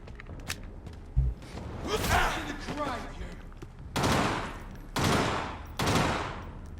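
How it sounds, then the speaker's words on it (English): Gunshots in the video game Vampyr, three heavy booming shots about a second apart near the end, after a stretch of muffled game noise and creaking ambience. "I gotta shoot in the right direction."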